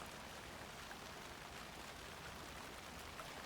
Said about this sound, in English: Our crime scene's drowning. I never minded rain.